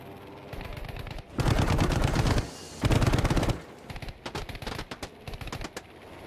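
Aircraft machine guns firing in Battlefield 5 Pacific air combat: two long, loud sustained bursts of rapid gunfire, then a run of shorter clipped bursts, with no talk.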